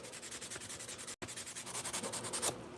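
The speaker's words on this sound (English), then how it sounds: "I'm just going to sand" A wooden Christmas ornament being sanded, with quick, rhythmic rubbing strokes close by, broken once by a brief silence before the strokes resume steadily.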